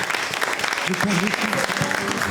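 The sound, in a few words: audience applause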